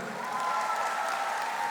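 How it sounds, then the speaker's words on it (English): An audience at the Virthli 2025 runway event claps for the Vice Chancellor, a brief, even burst of applause with faint cheering in a large hall. "one more round of applause for our Vice Chancellor"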